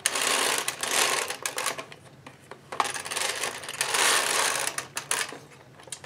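An Ultimate Sweater Machine knitting machine, 8mm gauge, has its carriage pushed back and forth during a cast-on, making loud rasping, clattering sweeps in two long passes with brief pauses between, close and alone.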